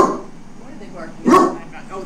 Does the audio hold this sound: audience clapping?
no